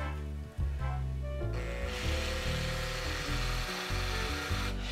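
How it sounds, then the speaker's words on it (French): A drill bit bores into wood for a pipe, with a steady grinding whir that starts after a brief pause and runs on close up, without speech. "j'essaye de faire en sorte que ma mèche garde une position centrale là-bas, parce que là on a un perçage quand même"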